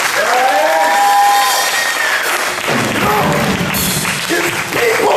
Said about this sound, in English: clap your hands, church.